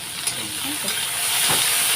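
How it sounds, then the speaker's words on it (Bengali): Eggplant fries in hot oil, a dense, steady hiss and crackle heard close up and alone, with faint stirring, growing slightly louder toward the end. "এদিকে বেগুনটা ভাজা বসিয়ে দিয়েছি"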